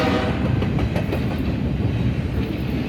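Union Pacific intermodal freight train with two UP locomotives rolling past heading west, a steady loud rumble and clatter of wheels on rail filling the scene without pause.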